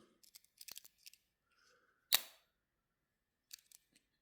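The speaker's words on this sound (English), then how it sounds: "Then we got the classic scissors." Small scissors on a Swiss Army knife snip several times in quick, crisp clicks, close and quiet, with a short pause and a sharper snap before a few more light cuts.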